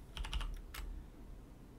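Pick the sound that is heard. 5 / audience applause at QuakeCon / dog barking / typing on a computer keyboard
typing on a computer keyboard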